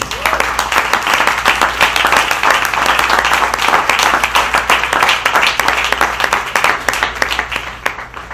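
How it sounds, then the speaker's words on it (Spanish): A church congregation applauds during a sermon, loud and sustained crowd clapping with a steady, fluttering texture lasting throughout, over a low constant hum. "Bríndale un aplauso al Rey."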